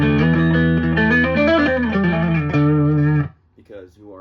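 Heavily overdriven electric guitar through channel 1 of a Synergy IICP preamp module, gain cranked, sustaining loud distorted chords for about three seconds, then cut off, followed by a short bit of nearby speech.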